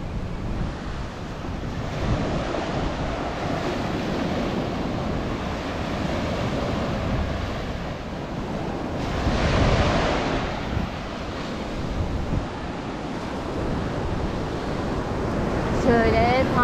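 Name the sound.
ocean waves surf on a Colombian beach, Tayrona Park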